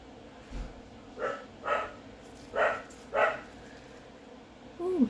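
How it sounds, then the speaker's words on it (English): Several dogs give short, separate barks at a moderate distance, spaced irregularly over a few seconds against a quiet room background. "Ooh, doggies."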